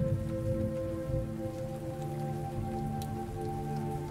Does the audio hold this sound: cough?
no